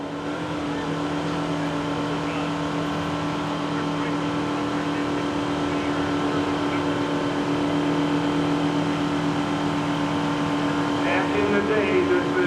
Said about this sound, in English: We'll see what the big John Deere can do.